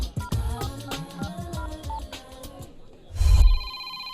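A telephone bell rings loudly and close in a Hindi-dubbed action movie scene, bursting in during the last second after a stretch of music-backed soundtrack.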